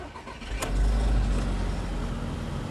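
A car at an Australian car auction starts up, sounding rattly, with a short starter whine and catch followed by a loud, rough low idle that settles and continues steadily, close by with no talk.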